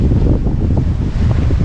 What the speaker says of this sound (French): là j'ai le vent complètement dans le dos